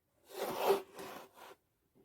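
Blade cutting diagonally through cardboard for a scrapbook album, three short scraping, rasping strokes close by, the first the longest, then a brief quiet.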